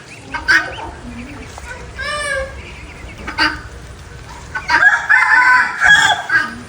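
A rooster whose call resembles a jungle fowl crows loudly at close range, with a drawn-out crow early on and further calls and clucks, and other birds chattering around it.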